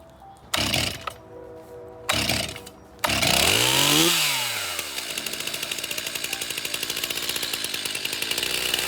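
A Stihl 361 chainsaw revs up loudly with a few short bursts, then runs at a steady high whine as it cuts trees while clearing brush, close and continuous.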